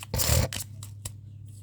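Tarot cards being shuffled, a dense papery riffle for about half a second, then a few softer card flicks and taps, close and fairly quiet with no talking.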